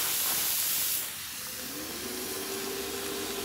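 Ribeye steak slices for a cheese melt sandwich hiss and sizzle steadily on a hot surface, a close, continuous frying sound with no talking.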